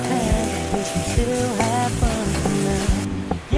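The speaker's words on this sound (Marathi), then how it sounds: "आता आपण याच्यामध्ये अद्रक लसूणची पेस्ट टाकायची. ते चांगली फ्राय करून घ्यायची तिला." Ginger garlic paste sizzles and fries in a pan, with a loud, continuous crackle broken by repeated scraping stir strokes of a utensil.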